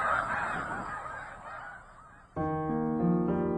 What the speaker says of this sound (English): The sounds of snow geese fill the forests of New England as they fly overhead